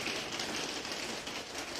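Steady rain falls at night, a continuous dense patter on surfaces that stays even and fairly close, with no voices.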